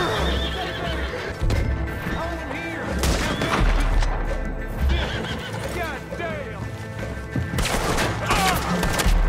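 A horse whinnies loudly several times in Red Dead Redemption 2 amid clip-clopping hooves, with scattered gunshots and a voice talking over the scene.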